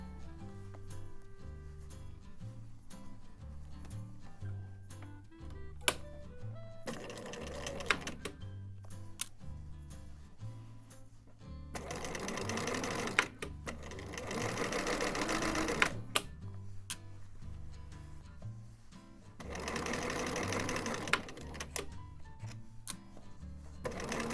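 A sewing machine stitches two fabric layers of briefs together, running in several bursts of fast, even mechanical chatter separated by pauses and softer handling clicks.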